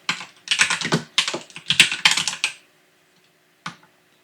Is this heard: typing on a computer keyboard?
yes